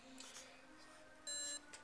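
A flight computer emits a short, steady electronic beep tone lasting a fraction of a second over a faint hum of background noise.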